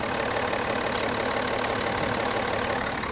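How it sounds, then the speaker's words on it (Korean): A BMW 730Ld xDrive diesel idles steadily with a slightly knocking, clattery diesel rumble, constant and close, with no voices. "자 바로 엔진음 들려드릴게요"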